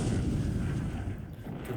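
Naval gunfire and explosions in the War in the Pacific strategy game, with destroyers trading fire at long range, form a deep, rumbling roll of booms, loud and continuous, that tapers slightly toward the end.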